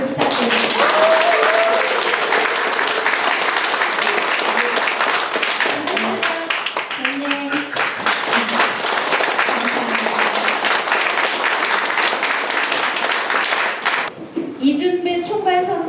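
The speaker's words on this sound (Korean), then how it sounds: "여러분 뜨거운 응원의 박수를 부탁드립니다." An audience at a Korean presidential campaign launch event in Sejong claps in sustained, dense applause that fills the room, with a brief lull and a speaker's voice near the end.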